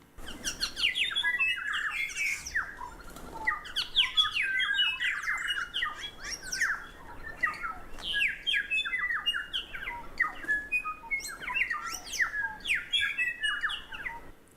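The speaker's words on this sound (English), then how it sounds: "this is males and females singing on Teri Teri Mātangi." Male and female birds sing together on Tiritiri Matangi island, producing a dense, continuous chorus of overlapping whistles, squawks and chirps. The calls are fairly loud and close, with no talking.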